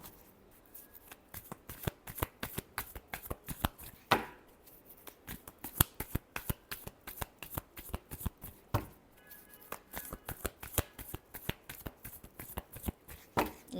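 Tarot cards riffled and shuffled by hand, a long run of quick, sharp flicking bursts in steady rhythm, close and fairly quiet, with brief pauses between shuffles.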